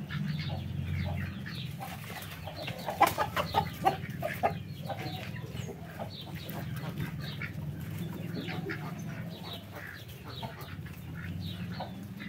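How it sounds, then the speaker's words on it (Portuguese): A hen with a swollen, impacted crop clucks and squawks in a steady string of short calls while being picked up for treatment. A low constant background hum sits underneath, with a brief flurry of louder clucks early on. "agora eu vou pegar a galinha para fazer o tratamento"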